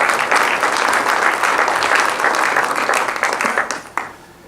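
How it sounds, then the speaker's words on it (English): A room full of attendees at an energy symposium applauds the leadership present, a dense burst of clapping that tapers off in the last half second. "A big round of applause for the leadership in the room."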